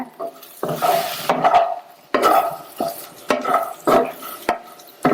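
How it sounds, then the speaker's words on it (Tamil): Boiled potatoes tossed with masala in a pan, a spatula scraping and stirring in repeated close strokes with short pauses between them. "உருளைக்கிழங்க சேர்த்துட்டு இந்த மசாலாலாம் நல்லா பிரட்டி விட்டுருங்க"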